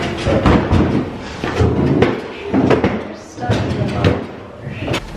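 Cabinet doors on an old piece of furniture in a cluttered garage open and close with several wooden knocks and thuds at close range, mixed with people talking.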